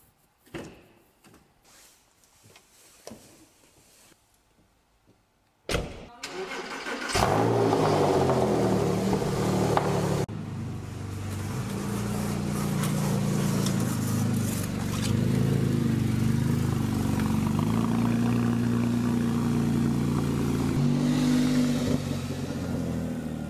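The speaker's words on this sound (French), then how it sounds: "on va démarrer la petite Porsche" A small Porsche starts up after some quiet handling noises and door sounds, its engine catching with a burst and settling into a steady, fairly loud idle and drive rumble, no one speaking.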